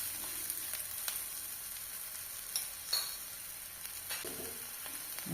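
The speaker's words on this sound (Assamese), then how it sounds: "এইখিনি অলপ সময় ভাজি ল'ম" Chopped onion, coriander leaves and green chilli frying in a little oil in a pan, giving a soft, steady hiss with faint stirring clicks and scrapes throughout.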